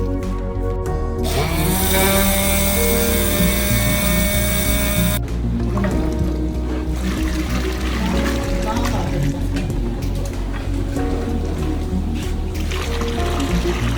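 Electric kitchen grinder running on ajwain, cumin and salt, a loud high whir that starts abruptly, cuts off, then resumes rougher and grittier, close by with talk around it.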